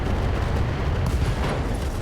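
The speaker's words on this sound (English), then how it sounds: "It kills the Zeus with an LRM ammo explosion" An LRM ammunition explosion tears apart a Zeus mech in the RogueTech battle game, a loud, dense, continuous roar of blasts and rumbling booms with no talk.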